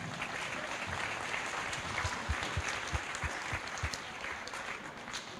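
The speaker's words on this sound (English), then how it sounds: "Could you please give them a round of applause," A crowd at an alumni tournament gathering claps in a sustained, fairly soft round of applause with individual hand claps standing out.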